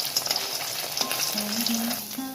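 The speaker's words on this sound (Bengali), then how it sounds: "আর এই মাছটা বেশি কড়া করে ভাজবো না, হালকা করে ভাজবো" Katla fish lightly frying in a pan, a bright close sizzle with sharp spits and brief scraping touches, continuous through a short stretch.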